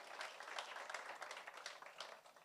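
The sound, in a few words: applause for the Ribbon Week students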